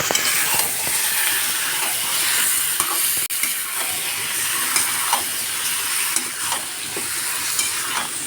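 Chicken giblets and liver being stirred in a hot pan, with a constant loud hiss and sizzle and scattered scraping strokes of a spoon spread over several seconds, and no one talking.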